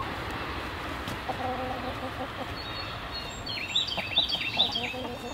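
Backyard chickens cluck softly at a distance over steady outdoor ambience, with a few louder clucks bunching up near the end.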